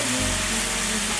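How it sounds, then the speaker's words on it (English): Ground beef and onion fry in a pan, giving a brief, steady close sizzle with a low hum underneath and no voices. "So we just cook this until the ground beef is done"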